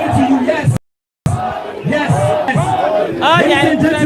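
A large crowd at an Obi-Datti presidential campaign rally in Numan, Adamawa, shouting and chanting loudly in waves, with excited voices rising over the mass roar and a short dropout partway through.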